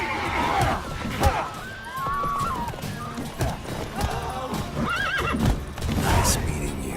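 A horse in The Witcher 3 neighs and whinnies several times over clopping hooves, close and loud, mixed with game ambience and brief crashes.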